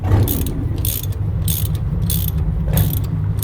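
A ratchet wrench with a 30 mm socket clicks on a car shock absorber nut, with close, loud repeated bursts of rapid pawl clicks in a steady back-and-forth rhythm over a low mechanical rumble.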